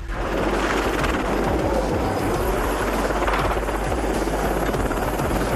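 A helicopter roars loudly and close, its rotor chopping in a rapid steady thump beneath a constant engine whine.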